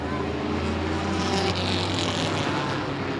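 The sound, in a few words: late model race cars racing on track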